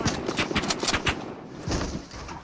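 A burst-fire gun in a video game fires several quick, loud bursts of rapid shots in a row, heard close and alone.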